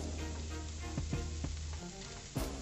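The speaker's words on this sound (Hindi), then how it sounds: "अब सब्जियां भून रही हैं" Vegetables fry in a pan with a steady, close crackling sizzle, broken by a few soft stirring knocks and one sharper clatter near the end.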